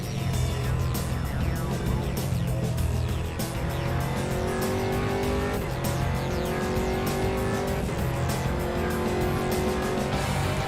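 A GT3 race car laps the Oulton Park circuit, its engine howling steadily near at hand as it rises and drops through repeated gear changes, with no voices.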